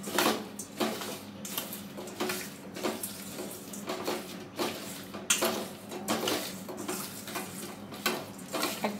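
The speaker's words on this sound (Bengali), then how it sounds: "এরপর সমস্ত উপকরণগুলো আমি মাখিয়ে নেব।" Raw mango pickle ingredients worked together with heated oil in a bowl, a steady rhythm of close wet squelching, stirring and light clinking against the dish, with no voices.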